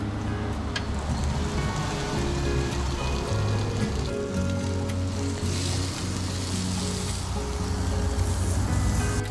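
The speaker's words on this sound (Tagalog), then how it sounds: "it is a little bit raining now" Light rain falling on and around a camper van in Australia, a steady soft patter and hiss that continues evenly throughout with no one talking.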